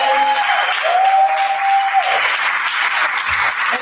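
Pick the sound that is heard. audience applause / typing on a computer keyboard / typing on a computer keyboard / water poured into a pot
audience applause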